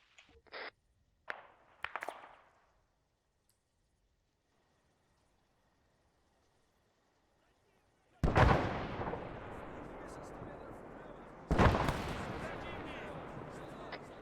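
Gunfire erupts in the ARMA 3 video game, a few sharp shots at the start followed by two heavy booming volleys with long rumbling tails after a quiet pause.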